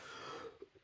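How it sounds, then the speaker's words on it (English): A single short cough comes through faintly, with a brief throaty burst near the end and no speech around it. "sorry about this cough"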